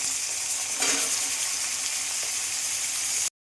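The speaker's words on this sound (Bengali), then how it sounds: "তো গ্যাসটা কমিয়ে কমিয়ে আমি একটু ভাজবো" Small cut new potatoes fry in a pan over low gas, giving a continuous close hiss and sizzle with a brief stirring scrape, then cutting off abruptly at the end.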